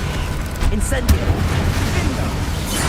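The Incendio fire spell is cast in Hogwarts Legacy, producing a dense, roaring whoosh with a sharp burst near the middle over constant rumbling game ambience.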